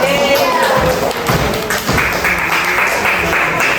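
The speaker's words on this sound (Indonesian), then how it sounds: "Tepuk tangan untuk kelompok." A classroom of students claps for a student group in an Indonesian school lesson, loud mixed applause with some thumps and taps on desks, slightly uneven and fading in places.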